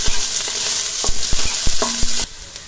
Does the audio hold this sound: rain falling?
no